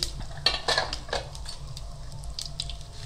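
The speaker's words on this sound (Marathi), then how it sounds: "आता मी जिरं टाकते। त्याच्यानंतर थोडीशी हळद टाकते मी।" Cumin, turmeric and asafoetida crackle in hot oil during a spice tempering for chakolya, a Maharashtrian dal dish, giving a few sharp sizzling bursts early on that settle into a quieter hiss with light scrapes, without any talk.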